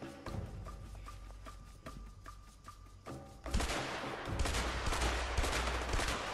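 Gunfire in the video game A Way Out: a string of sharp single shots rings out at a steady pace, then a louder, sustained burst of rapid automatic fire and explosions takes over, with no talk.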